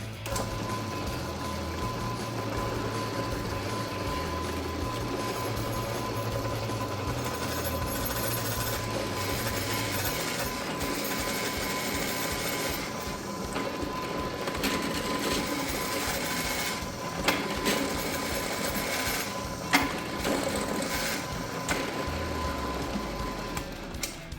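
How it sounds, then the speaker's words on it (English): A power drill grinds continuously through material, a steady mechanical whine with shifting low rumble and occasional clunks as it bores in. "Let's see about drilling a big old hole."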